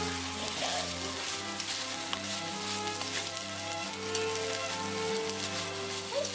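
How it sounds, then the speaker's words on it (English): Steady, dense sizzle of pork frying in a hot pan, loud and constant throughout, with faint background hum and no talking. "We're going to keep on frying this up"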